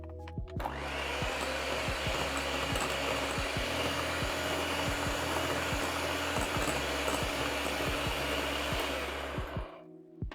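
An electric hand mixer running on high speed through vanilla cake batter of butter and eggs in a bowl, a loud steady whirring drone with faint ticking of beaters against the bowl, stopping near the end.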